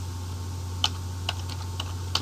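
Computer keyboard keys clack in a sparse, irregular run of about six crisp taps close by, over a steady low electrical hum, with no talk.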